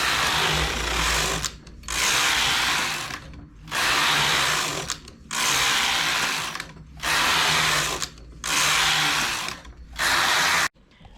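A knitting machine works rows of English rib, the carriage sweeping across in six loud, evenly spaced passes of whirring, rattling mechanism with brief pauses between them.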